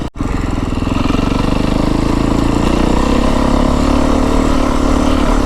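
A 2025 Beta 350 RR X-Pro dirt bike is ridden in third gear at about 20 mph. Its engine drones loud and steady right at the rider with a rapid, throbbing pulse, and no one speaks.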